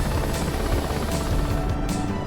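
Helicopter in the DCS World combat flight game, its rotor and turbine drone loud and continuous throughout with a steady throbbing chop, no voices over it.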